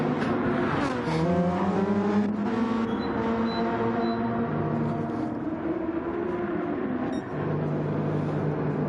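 Race cars in Gran Turismo 7 at the Nürburgring GP circuit during a pit stop, with steady engine drones and shifting pitch from cars running past, a continuous layered motor roar.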